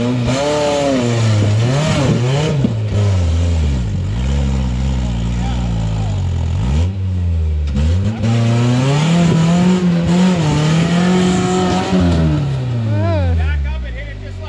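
A rock crawler buggy engine on a rocky trail revs repeatedly, its pitch rising and falling in long surges, loud and close, with people talking over it.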